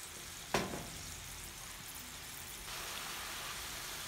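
Food frying in a pan gives a steady, soft sizzle. A single sharp scrape or clack of stirring comes early, then the hiss continues and grows slightly louder, with no talking over it.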